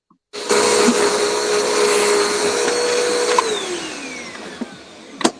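A vacuum cleaner switches on abruptly and runs with a loud, steady whining roar for about five seconds, its pitch dipping slightly, then a few knocks near the end.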